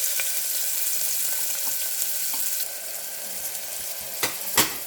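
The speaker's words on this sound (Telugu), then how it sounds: "తర్వాత కొంచెం జీలకర్ర, ఆవాలు, తర్వాత ఆనియన్స్ అయితే వేసుకుందాము." Onions crackle in a little oil with cumin and mustard seeds for a beetroot-tomato curry, a steady bright sizzle that eases slightly midway, with a few sharp utensil knocks near the end.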